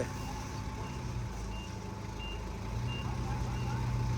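Reversing beeps sound steadily from a truck backing up, a repeated tone over a constant engine rumble, while people shout directions nearby.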